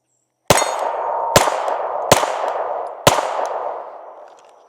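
Four loud, close Glock 45 pistol shots fired at an uneven pace, each a sharp crack followed by a ringing metallic decay, with silence before the first.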